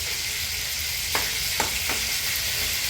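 Vegetarian kofta balls fry in a pan, giving a steady close hiss with a few light clinks of a utensil against the pan and no talk.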